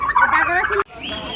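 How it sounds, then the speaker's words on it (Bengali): A turkey gobbles in a loud, close rattling burst that cuts off abruptly, followed by quieter background sound, heard beside emus at a farm resort. "এমু পাখির পাশে দেখা যাচ্ছে টার্কি পাখি"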